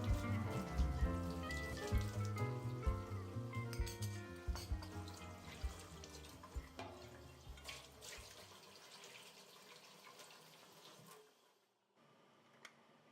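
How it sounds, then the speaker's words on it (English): Running tap water splashes as a plastic natto tray and spoons are washed, with clattering handling sounds over the stream, fairly faint, before the water cuts off near the end. "I will wash it with fresh water to get the chlorine out of the tray"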